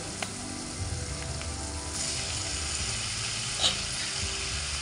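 Spiny gourd curry sizzles and fries in a pan, a steady close hiss with a few faint scraping clicks.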